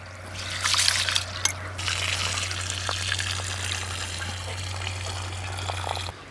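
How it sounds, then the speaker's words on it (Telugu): Biryani rice is washed in water with trickling and swishing splashes over a steady low hum, the sloshing loudest near the start and continuing until a sudden stop. "నేను బిర్యానీ రైస్ తీసుకున్నా ఒకటికి రెండు సార్లు కడుక్కోవాలి"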